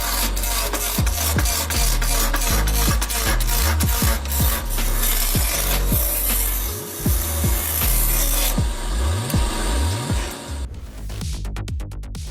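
A woodworking machine trims tree trunks with a steady grinding, rasping drone and repeated rhythmic swishing pulses, loud and close throughout, ending in a rapid burst of clicks.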